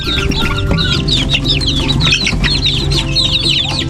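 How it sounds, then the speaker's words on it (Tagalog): A flock of native chickens clucking continuously in a backyard, many overlapping chirpy calls close by, with a steady low background hum underneath. "ito naman po mga manok na native"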